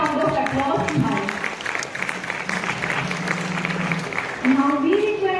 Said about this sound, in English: Give a big round of applause to her.